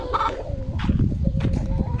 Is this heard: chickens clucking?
yes